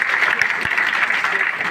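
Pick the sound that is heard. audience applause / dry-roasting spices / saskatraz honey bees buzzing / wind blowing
audience applause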